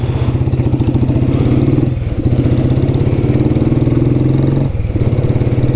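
A vintage Royal Enfield Bullet motorcycle engine runs loud and close, a steady thumping single-cylinder idle with a couple of brief dips and surges in rhythm.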